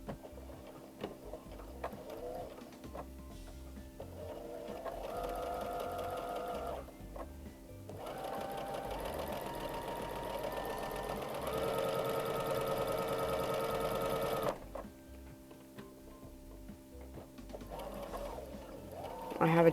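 A sewing machine stitches white thread on spring bunny and carrot crafts, running in steady close-up bursts separated by short pauses.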